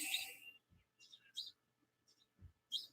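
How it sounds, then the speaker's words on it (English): Several short, bright bird chirps ring out at intervals over a quiet background, with a few soft low thumps between them. "You hear the birds chirping and everything."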